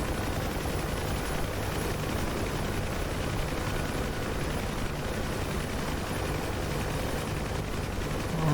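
A Bell UH-1 Huey helicopter in DCS flying over Cyprus gives a constant loud rotor and engine roar with steady thumping texture throughout, no talk.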